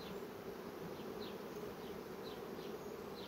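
Honeybees foraging at a hive during a nectar flow, giving a steady, close buzzing drone with occasional louder passes of individual bees, continuous throughout.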